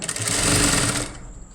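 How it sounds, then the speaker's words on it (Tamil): Electric sewing machine stitching the neckline of a lined blouse, a loud, close, fast steady whirr of the needle that slows and stops near the end, no one talking. "இந்த கால் இன்ச்லேயே அப்படியே தையல் கொண்டு வாங்க"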